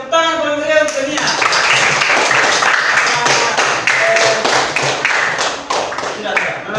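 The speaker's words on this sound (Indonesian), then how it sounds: "Tepuk tangan kalau beliau untuknya." A class claps hands together in a classroom, a lively run of clustered claps following a voice, with a few louder individual slaps standing out.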